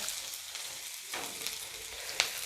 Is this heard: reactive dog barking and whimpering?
no